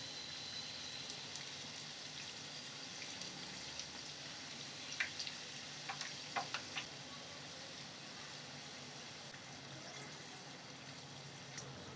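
Karjikayi pastries fry in oil over a medium flame with a faint, even hiss, and a few small pops and crackles sound in the middle.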